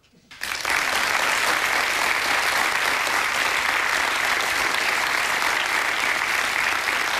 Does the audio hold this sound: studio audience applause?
yes